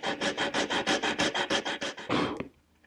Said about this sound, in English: That's why we go to the sanding block.